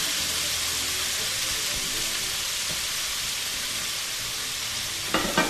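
Lean lamb pieces brown in a hot pan for rogan josh, giving a steady close hiss and crackle of sizzling fat, with a few utensil scrapes and clinks toward the end.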